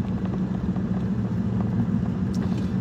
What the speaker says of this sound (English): This is my Audi A3. That's what I'm driving.